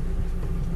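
A vehicle engine idles while parking, a steady low rumble close by with no talk over it.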